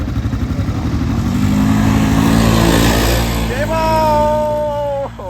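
An old Kawasaki Bayou quad's engine revs and climbs as it rips through snow, a loud buzzing motor rising in pitch then cutting off, with brief voices over it.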